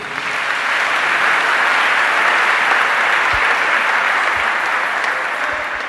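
A church congregation breaks into sustained, loud applause that swells quickly, holds as a dense wash of clapping for several seconds, and then tapers slightly toward the end.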